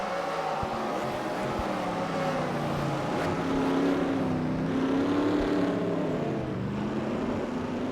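Race car engines in NR2003 during a championship car race at Shanghai, a dense droning roar with rising and falling pitch as cars pass close together, loud and continuous.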